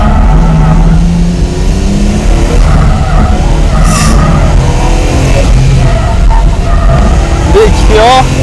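A Nissan GT-R, a four-wheel-drive car on a front-engine rear-drive base, brakes hard on a track with a loud engine roar and squealing tyre skids, and a voice speaks over it.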